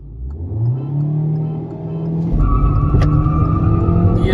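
A Kia Seltos and a Hyundai Verna launching side by side in a drag race, a loud close engine roar rising in pitch, then surging harder with a tire chirp and climbing revs as the cars pull away.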